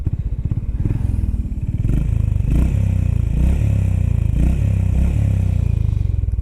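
A Honda Highness CB350 motorcycle engine idles with a steady low thump, then revs in several rising bursts, close and loud with no talking.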